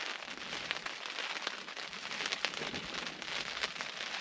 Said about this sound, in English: The rain's set in now.